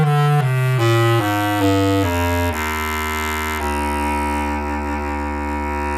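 A bass clarinet plays a short run of low sustained notes, stepping downward before settling into one long held tone, loud, close and reedy with no talking.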